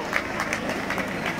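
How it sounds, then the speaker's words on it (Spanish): Audience applause at a race awards ceremony for the XI Carrera Monumental in Segovia, a steady wash of clapping from a crowd with some voices mixed in, moderately loud and continuous throughout. "Un aplauso para Juan Delgado"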